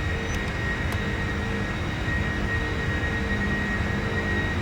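Boeing 747 jet engines roaring steadily at climb power just after takeoff from runway 26 left, a continuous loud broadband rumble with a faint whine, no voices.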